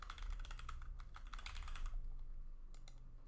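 Rapid clicking keystrokes on a computer keyboard as a password is typed, a dense burst of taps for about two seconds, then a pause and a couple of final key presses over a low hum.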